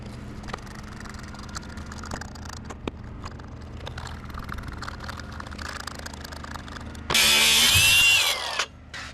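Power tool chasing out threaded holes in the brackets of a Peterbilt 359 truck, with a low steady workshop drone under scattered clicks, then a loud high whine bursting in near the end for about a second before cutting off.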